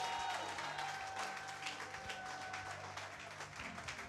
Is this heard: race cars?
no